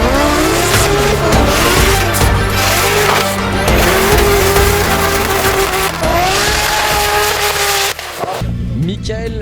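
Engine of a Nissan S14 race car roaring at high revs with tire squeal as it drifts on a circuit, loud and continuous, with a crowd and announcer talking over it.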